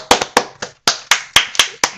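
A small studio audience on a talk show claps for a guest, a short run of sharp, irregular hand claps from just a few people, close and loud with brief gaps between them.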